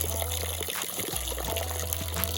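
Warm water pours and trickles steadily into a container for chickens, a close, continuous splashing stream with a low hum beneath it.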